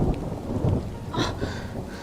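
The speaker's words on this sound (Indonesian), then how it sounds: "Aisyah, masuk yuk, hujan." Steady rain with a low thunderstorm rumble fills the night scene outside a house, a continuous wash of falling water with no voices.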